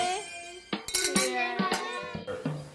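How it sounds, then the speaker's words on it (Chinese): Glasses clink together in a Christmas dinner toast, with several bright, sharp chinks in quick succession against lively overlapping voices and tableware sounds. "干杯！"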